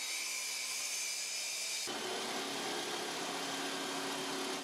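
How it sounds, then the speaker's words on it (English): A power tool cuts wooden planks to length during a home renovation, starting with a steady whine and then switching to a louder, harsher cutting roar that continues to the end. "right now is the time to use the power tools. So what we're going to do is cut down some of this length"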